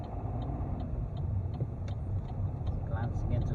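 A car idling and then pulling away from green traffic lights in Dublin during a driving lesson, with a steady low engine hum, faint ticking, and an instructor talking over it.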